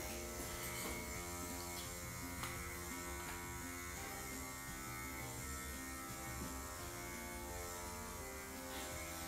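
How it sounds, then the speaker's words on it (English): A dog grooming clipper buzzes steadily and faintly with a constant electric hum as it runs over a poodle's coat, with no talking. "you can see how this clipper is really gonna save you guys time and energy and money"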